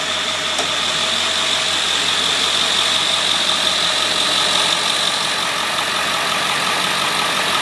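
A 1999 Ford F-250 Super Duty with a stock 7.3 turbo diesel and factory intercooler idles steadily, a continuous close, loud rattling drone with no other sounds.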